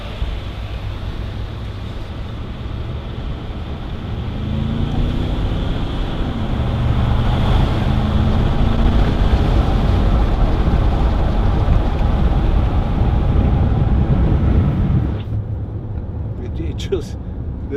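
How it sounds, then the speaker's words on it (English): A 2010 Range Rover Sport 3.6 TD V8 diesel pulls away and cruises, its steady low engine rumble building under road and wind noise for most of the drive before dropping off sharply near the end. "even for a diesel, they sound really good. Probably get a bit of wind noise as well"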